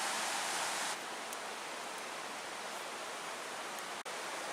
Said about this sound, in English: we're right next to a nice little waterfall